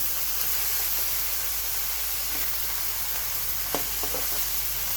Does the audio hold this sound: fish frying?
yes